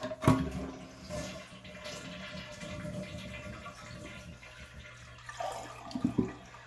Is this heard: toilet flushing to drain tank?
yes